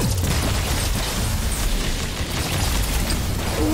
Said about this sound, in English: Bro, the plasma cannon's so cool.